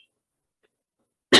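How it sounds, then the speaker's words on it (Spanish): A single sharp cough bursts out close by after more than a second of near silence. "me está agarrando una tos terrible"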